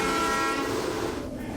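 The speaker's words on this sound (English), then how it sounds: "This is the train coming in right here." The horn of a supply train pulling into a tunnel construction site sounds as a sustained tonal blast over low rumbling machinery. The blast begins to fade toward the end.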